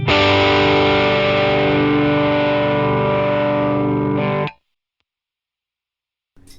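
A Gibson Les Paul Studio electric guitar on its neck pickup through a NuX Trident effects unit rings out a loud, sustained distorted chord that holds for over four seconds, then cuts abruptly to silence.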